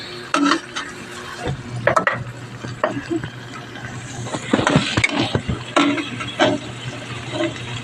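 Corned beef with malunggay and egg being stirred in a pan, with repeated scraping strokes of a utensil against metal over a soft, steady background, close and moderately loud, no talking.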